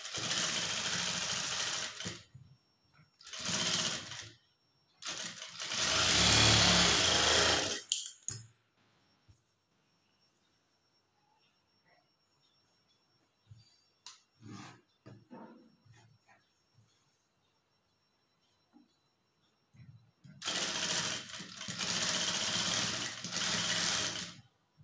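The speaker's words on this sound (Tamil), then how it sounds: "இப்போ மேலே வந்து ஒரு டாப் ஸ்டிச் வந்து போட்டுக்கலாம்" A sewing machine top stitching a blouse whirs in three close bursts, goes quiet apart from light clicks and handling noises, then runs in two more bursts near the end.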